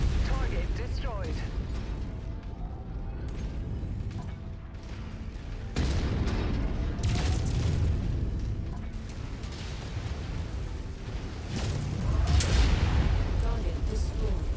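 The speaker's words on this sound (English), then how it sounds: "Don't want to be caught in the explosion." Explosions and gunfire rumble through a MechWarrior 5 battle, dense continuous booms and crackling impacts with heavy low rumble, swelling louder toward the end amid mechanical clanks, with a voice talking at times underneath.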